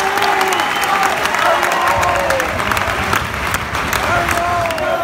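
A football match crowd at Leyton Orient versus Crewe Alexandra claps and cheers steadily, a dense wash of applause with voices calling out through it.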